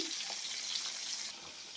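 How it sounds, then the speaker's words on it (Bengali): Fish sizzles in hot oil in a home kitchen pan, a steady bright crackling hiss that eases slightly toward the end, with no one talking. "এখন আমার রান্না কমপ্লিট হয়নি, সবে মাছ ভাজা করছি"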